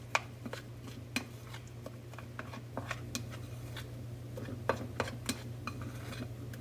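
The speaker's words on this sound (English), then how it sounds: "you're just going to stir it around, and it'll make the sauce really thick because of the amount of spices" A utensil stirring a thick, heavily spiced sauce in a bowl, with irregular soft clinks and scrapes at close range over a low steady hum, no talking.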